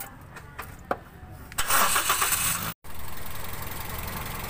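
Car with a faulty, noisy transmission: a few clicks and thumps, then the engine cranks and catches into a loud rough run, cuts briefly, and resumes as a steady grinding idle.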